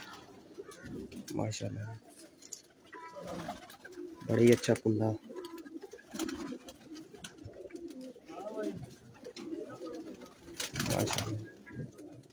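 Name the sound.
pigeon cooing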